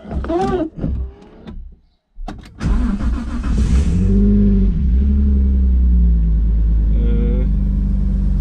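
A Lexus car engine starts after a few short mechanical clunks, then settles into a steady low idle rumble with a faint whine, heard close and loud.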